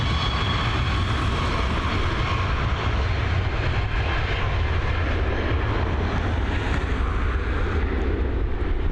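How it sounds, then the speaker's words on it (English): Malta Air airliner, a Ryanair subsidiary, departing Dublin Airport: a loud, continuous broadband jet engine roar that stays steady and close throughout, with no talk. "Malta Air on departure, of course a subsidiary of Ryanair."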